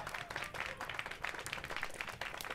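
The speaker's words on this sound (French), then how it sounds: "Indulgent, le public applaudit chaleureusement." A concert audience applauds warmly, with quiet, rhythmic clapping rising and falling in soft pulses for a few seconds and no voices on top.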